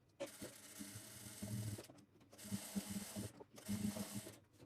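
A sewing machine stitches pant fabric in three short bursts of rapid mechanical chatter separated by brief pauses, close but quiet.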